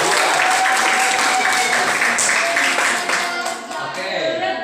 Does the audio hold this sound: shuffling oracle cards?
no